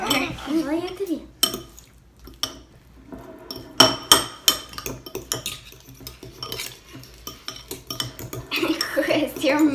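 A fork scrapes and clinks against a bowl while guacamole is mixed, giving irregular sharp taps and stirring scrapes, close by, with people chatting and laughing over it.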